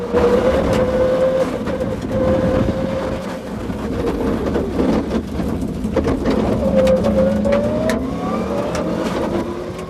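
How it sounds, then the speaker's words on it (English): A rally car drives hard nearby at the 1998 Donegal International Rally, engine revving and changing pitch through gear shifts, with gravel and road noise throughout. "Aboard the Keystone Lintels car, the Doherty brothers continue their fabulous run."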